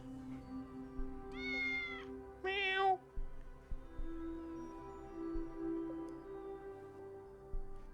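A cat in the video game Tales of the Neon Sea gives two short, clear meows over a quiet ambient music bed, with faint soft taps and no talking.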